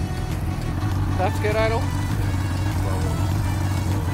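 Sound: motorboat engine running after float needle change

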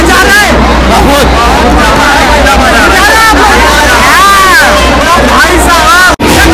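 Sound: dense festival crowd babble at Durga Puja pandal, Kolkata

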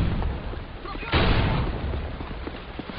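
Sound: hand grenade thrown and exploding in Modern Warfare 2 video game

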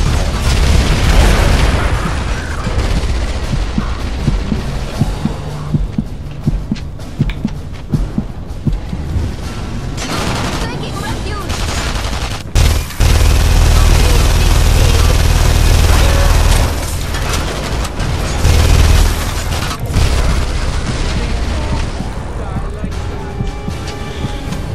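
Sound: gunfire and grenade explosions in video game The Saboteur

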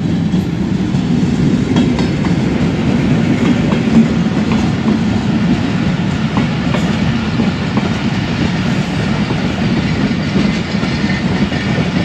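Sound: Sukkur Express passenger train with AG-30 locomotive passing

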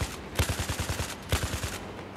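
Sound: gunfire in video game Battlefield 4

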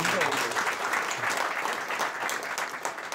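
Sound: audience applause at a golf club ceremony

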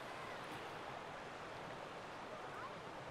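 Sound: waterfall

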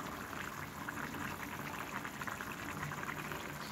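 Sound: pure cold-pressed mustard oil being poured into pan

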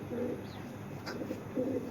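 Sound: Python breed pigeon cooing

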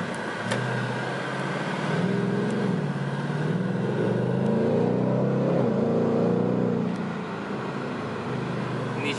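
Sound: Ford Mustang GT engine revving

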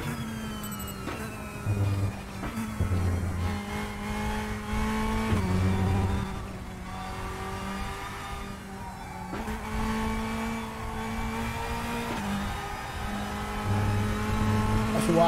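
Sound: race car driving on track in Assetto Corsa Competizione video game

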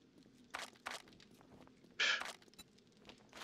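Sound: footsteps in video game 7 Days to Die

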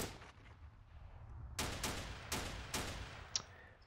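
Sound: gunfire from squads in video game Steel Panthers

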